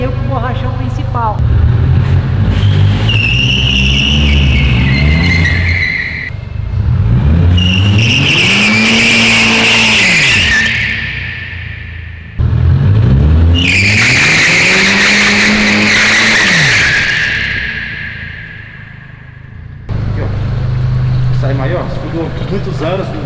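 A Volkswagen Jetta Turbo performs a tire burnout, its engine revving hard in long rising and falling surges while the tires screech loudly, with brief pauses between runs and voices heard at times.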